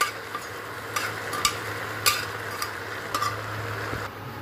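Food with green chillies frying in a pan, a soft low sizzle punctuated by a few distinct scrapes and taps of a spatula as it is stirred, no talking.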